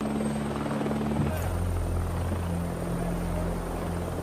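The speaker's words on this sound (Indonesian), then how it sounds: "keesokan harinya Iceman pun datang dengan sebuah helikopter" A helicopter arrives, its rotor and engine drone loud and steady throughout, with a low throbbing hum and a brief shift partway through, in a prison drama scene.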